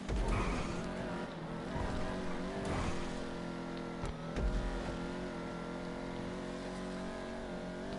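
A supercar racing a lap in GTA Online, its engine a steady loud droning roar with shifting pitch as it revs and accelerates, sustained throughout alongside game sounds.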